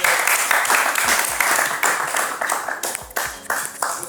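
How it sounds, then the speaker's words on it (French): Audience clapping at a speed-dating event, a dense burst of applause from a crowd that swells and fades in waves, fairly close and loud. "Applaudissez pour eux"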